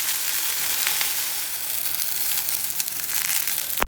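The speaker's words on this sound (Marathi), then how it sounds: "आता आपण हे टोमॅटो पलटून घेऊया." Tomatoes frying in a pan for pink sauce pasta sizzle steadily and close, with crackling spatters and a few crisp scrapes as they are flipped, ending in a sharp clatter.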